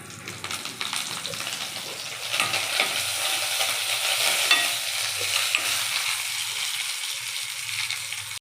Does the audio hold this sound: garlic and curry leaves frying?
yes